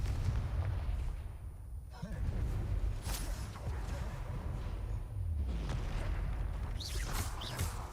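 Fiery Confringo spell blasts in the Hogwarts Legacy video game, booming explosive bursts with crackling tails recurring across a loud, dense combat mix.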